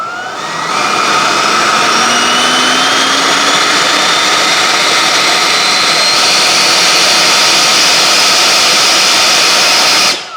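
A 90mm ducted fan on an FMS Avanti S RC jet spools up into a loud, close, continuous high-pitched whine with a rising tone. It holds steady for about ten seconds before cutting off abruptly at the end.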